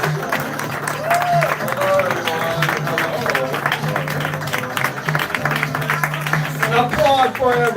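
A crowd at an Andrew Yang campaign office opening in Plymouth, New Hampshire applauds and cheers steadily for several seconds, with voices and shouts mixed into the clapping.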